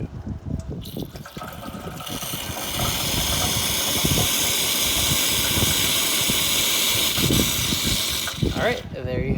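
An Expobar espresso machine hisses loudly and steadily as it dispenses steam and hot water, a continuous close rushing roar lasting several seconds with a softer start and a brief trail-off at the end.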